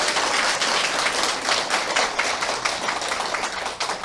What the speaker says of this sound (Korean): 딱 알아차리시고 이제 박수를 치시네.